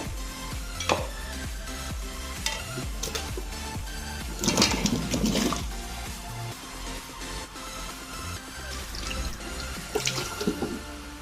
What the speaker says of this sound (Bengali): পানি ফুটে গেছে